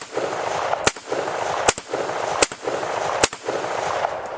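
Four sharp rifle shots of .223 ammunition with 55-grain projectiles ring out at a steady interval of roughly 0.8 seconds, loud and close over a continuous outdoor background hiss.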